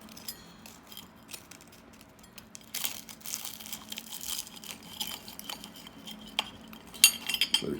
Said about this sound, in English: They're kind of hot, so I'm going to use a fork to cut them open.